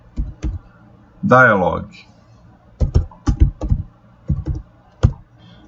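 Short bursts of computer keyboard keystrokes click in quick clusters, close and fairly soft, separated by pauses, with someone speaking briefly between them.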